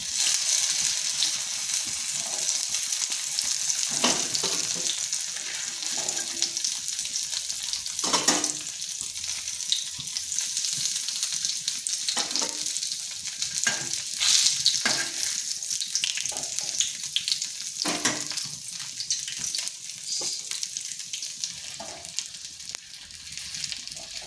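Egg and pointed gourd fry in a pan with a continuous close hissing sizzle, broken by occasional scraping and stirring noises, with no one talking.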